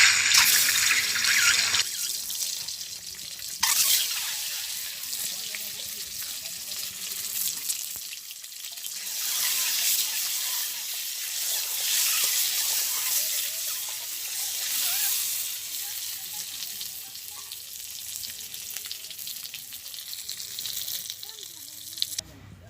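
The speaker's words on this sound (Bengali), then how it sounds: "তেল গরম হয়ে গেছে, আমি এখন ডিমটা দিয়ে দেবো" An egg sizzles in hot oil in a pan in a village kitchen, a loud continuous hiss and crackle that runs steadily throughout, with no talk.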